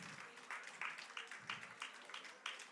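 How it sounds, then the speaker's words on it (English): Applause at a tech summit exhibition session, a faint, distant crowd clapping in a thin, patchy rhythm with a few sharper claps standing out, while a voice talks over it now and then. "Please keep the applause going until the person comes on stage."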